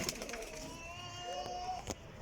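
Highflyer pigeons from a flock of twenty-six in Jhelum coo softly, with one drawn-out coo rising over a dull background murmur and a sharp tap near the end.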